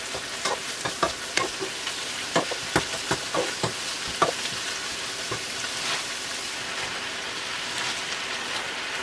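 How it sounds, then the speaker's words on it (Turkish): Spinach leaves stirring and sizzling in a pan over fried onions, a steady frying hiss with repeated sharp spatula scrapes and clicks in the first half, then a more even sizzle; no talking. "2 adet kavrulmuş soğanların üzerine ıspanakları azar azar ekleyerek sulandırmadan kavuralım."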